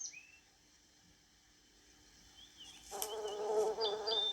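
Hornets, rhinoceros beetles and stag beetles swarm at sweet tree sap in a Korean forest, their buzzing faint at first and then swelling into a louder, dense insect drone with a few high chirps in the last part.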